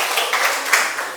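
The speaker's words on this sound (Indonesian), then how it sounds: "tepuk tangan semuanya" Classroom of students clapping together in a short, dense burst of applause, fairly loud and close, with no talking over it.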